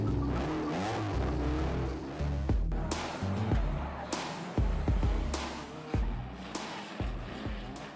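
Oval racing cars on a UK track rev and roar past in repeated bursts, each engine surge rising and cutting off sharply, loud and close with crowd or ambient noise beneath.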